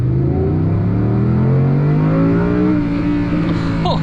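A 2024 Audi R8 accelerates hard, its loud, close engine drone climbing steadily in pitch across the whole stretch with no one speaking.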